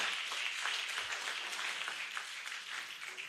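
Audience applause at a scientific conference and annual general meeting of a Lagos State chapter, a dense, steady wash of many hands clapping throughout, fairly loud and unbroken, with no speech over it.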